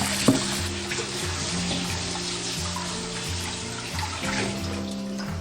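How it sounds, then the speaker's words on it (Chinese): A peeled radish is rinsed clean under running water, a steady, fairly soft stream splashing close by with a faint tonal hum in the background and no speech. "削皮以后再给它洗干净。"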